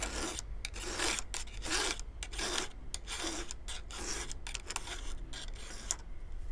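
Repeated rasping strokes of a hand file sharpening the teeth of a Parkside chainsaw chain, a steady rhythm of short, close scrapes with no talking.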